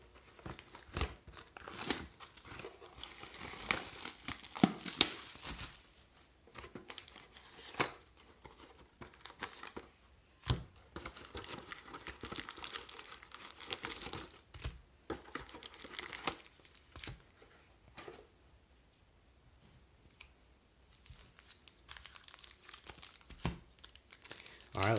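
Foil packs of 2019 Prizm Draft Picks football cards torn open by hand, with continuous close crinkling and ripping in bursts and occasional card shuffling, mixed with someone talking throughout.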